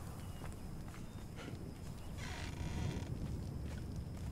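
A horse in the Conan Exiles video game, with light clip-clop hoof sounds and shuffling steps over a low rumbling outdoor ambience, moderately faint with no talking.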